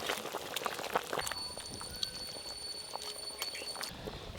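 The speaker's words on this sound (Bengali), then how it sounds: "ঝোল একদম টকবকে হয়ে ফুটে গেছে" Sour fish curry broth bubbling at a boil in a pot in a home kitchen, a faint continuous burble with scattered small pops and a thin steady tone in the background.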